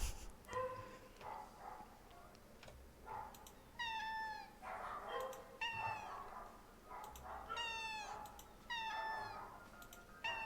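A cat in Nightfall Whiskers meows repeatedly, several rising and falling mewls spaced a few seconds apart, quiet and clear over faint background sound with no speech.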